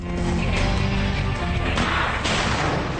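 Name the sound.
flashbang stun grenade going off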